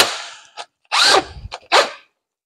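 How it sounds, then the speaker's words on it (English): Electric impact wrench with a 15/16 socket removing a nut while building a homemade permanent magnet alternator: a loud burst of hammering rattle, then two short mechanical bursts with brief pauses between. "That electric impact, I tell you what, saved my butt a bunch of times."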